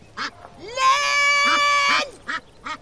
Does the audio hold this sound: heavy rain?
no